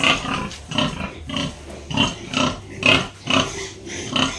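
A pregnant gilt, a young sow, gives a rhythmic series of about eight close grunts while being moved into a pen.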